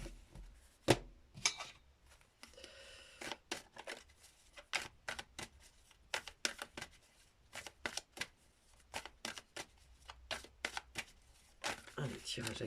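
Oracle cards are shuffled for a reading, giving quick, irregular bursts of riffling and slapping that come close and fairly loud, with short pauses between them.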